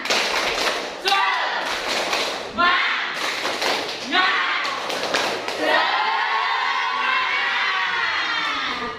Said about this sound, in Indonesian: tepuk semangat dulu sambil berdiri